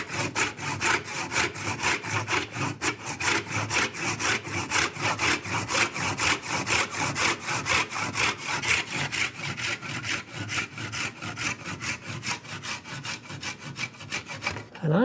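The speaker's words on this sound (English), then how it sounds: "I'm just using the Shinto rasp" A Shinto rasp works wood on a dovetailed box held in a vise, producing steady rhythmic rasping strokes, close and fairly loud, repeating evenly for about fifteen seconds.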